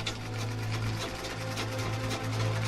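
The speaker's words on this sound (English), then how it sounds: "the rhythm of the sewing machine is only one facet of her world" A sewing machine runs steadily with a continuous mechanical hum and rapid stitching rhythm, worked by hand and foot in a quiet rural home.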